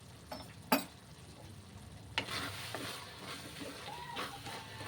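A spoon stirs ridge gourd curry in a pan after coriander powder and garam masala are added, giving a soft, close sizzle with a few sharp scrapes and clicks against the pan.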